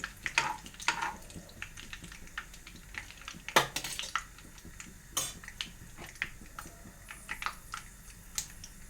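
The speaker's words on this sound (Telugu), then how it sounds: "తాలింపు వేగాలి, ఎందుకంటే ఆవాలు మళ్ళీ తడికెళ్ళి తేగపోతే చేదుగా ఉంటాయి" Mustard seeds frying in hot oil for a tadka, with small close crackles and sharp pops spattering irregularly over a low sizzle.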